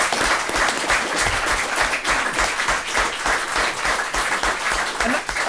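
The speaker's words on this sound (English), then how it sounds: "I think we should give him a round of applause" A room at a town Board of Selectmen meeting breaks into continuous applause, an even wash of clapping from many hands lasting the full stretch with no speech.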